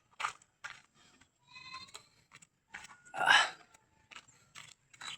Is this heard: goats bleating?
yes